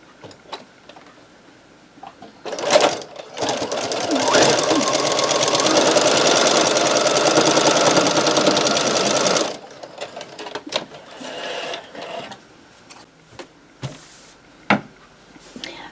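Sewing machine quilting a fabric Christmas stocking runs steadily for about seven seconds, loud and close, with quieter handling clicks and rustles before and after.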